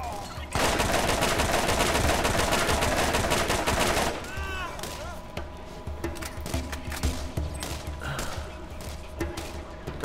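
Rapid automatic gunfire in the video game Borderlands, a dense burst of shots for several seconds, then scattered single shots, thuds and game effects at lower level.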